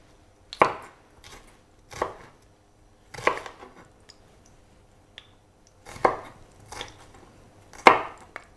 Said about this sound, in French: On va ciseler très finement